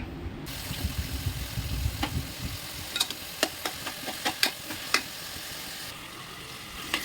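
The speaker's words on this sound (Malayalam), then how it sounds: "ഞാൻ നല്ലോണം ഇത് വഴറ്റി എടുക്കട്ടെ" Onions and tomatoes with salt are sautéed in a pan, a soft steady sizzle with a run of sharp spoon scrapes and taps against the pan, close by and with no talking.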